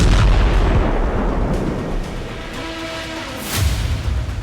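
Air and naval defense systems firing to shoot down Iranian ballistic missiles: continuous heavy rumbling blasts and booms, loud and dense, with a sharper burst near the end.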